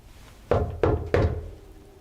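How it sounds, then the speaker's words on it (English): Three sharp knocks on a wall inside Malvern Manor, an old reputedly haunted building, each a solid thud with a short decay, evenly spaced about a third of a second apart, close and loud in an otherwise quiet room. "I'm gonna knock on the wall real quick."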